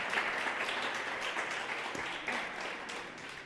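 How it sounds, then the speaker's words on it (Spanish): A church congregation claps together, a steady, moderately loud wash of applause lasting a few seconds with no voices over it. "Y puedes darle al Señor un aplauso por eso."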